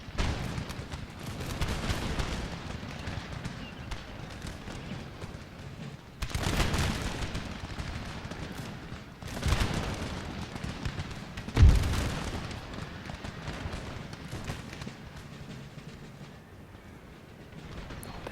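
Battlefield gunfire from tribal gunners in Empire: Total War, muffled volleys and booming bursts rolling in every few seconds over a steady rumble of distant battle noise, with one sharper thump near the end.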